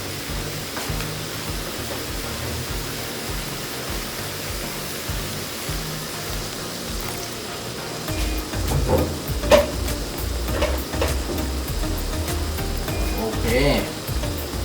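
Spicy field rat stir-fried in a pan over an outdoor cooking fire gives a steady, close hiss and sizzle, with clatters and scrapes from stirring growing busier partway through.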